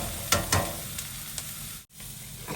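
Carrots and beans sauté in a pan for multigrain vegetable noodles, giving a continuous close sizzle with a couple of soft stirring knocks early on and a brief drop near the end.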